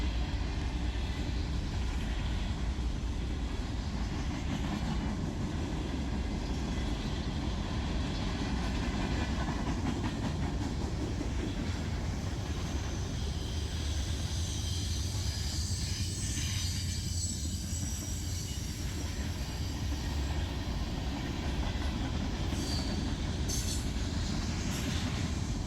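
Freight train hauled by AC4400 locomotives rumbles around a bend on the D&H, a loud continuous roll of wagons and clattering wheels with faint squealing flange noise, sustained for the whole stretch.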